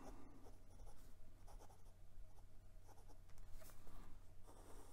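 A Wing Sung 601A fountain pen with a fine tubular steel nib writing on paper, a faint continuous scratchy scribble with small stroke-by-stroke bursts, very close and quiet with no voice.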